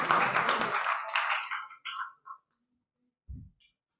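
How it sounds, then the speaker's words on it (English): An open mic crowd claps as a poet walks to the microphone; a burst of dense applause fades out within a couple of seconds, leaving a few scattered, quieter sounds. "Clap as he comes to the mic."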